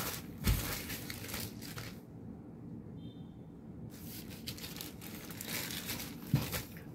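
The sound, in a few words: unboxing a T-shirt package, crinkling packaging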